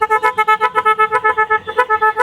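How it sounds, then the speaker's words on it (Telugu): A loud aftermarket horn fitted to an auto rickshaw blasts a rapid, pulsing series of about twenty harsh, buzzy toots in quick rhythm. The horn is very close and dominates the clip. "హార్న్ కొట్టు ఒకసారి."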